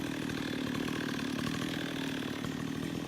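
A chainsaw runs steadily close by on a property, a continuous loud buzzing engine drone with no pauses.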